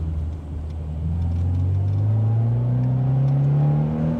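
A Toyota 86 engine revs during a drift, a loud, steady growl that dips slightly and then climbs in pitch as the throttle opens, with no other sounds over it.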